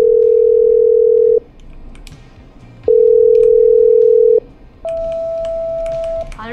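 A telephone line is dialed and patched through: a loud, close, steady dial tone sounds twice with short gaps, then a higher ringing tone and brief electronic clicks, with no talking.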